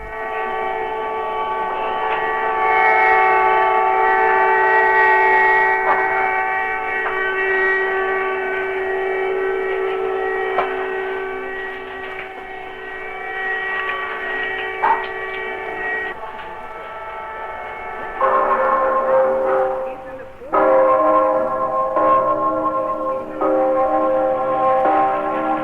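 Archival 1968 sirens, bells and horns announce a one-hour protest strike against the invasion of Czechoslovakia. Loud, sustained overlapping tones hold steadily and then shift pitch and break off briefly near the end.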